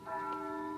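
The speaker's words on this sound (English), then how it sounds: "That's the bell at St. Boniface, isn't it?" Church bell of St. Boniface ringing as a radio drama effect, a single faint sustained tone with steady humming overtones, heard alone.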